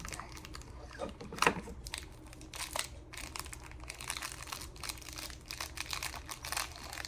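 A plastic blind bag package being torn and opened up close: quiet crinkling and rustling with a sharp tearing crackle near the start, then scattered soft crinkles.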